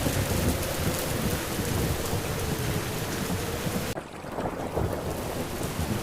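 Heavy rain pours steadily in an animated story, a dense, loud hiss that runs throughout, with low thunder rumbling underneath and a brief dip partway through; no voices.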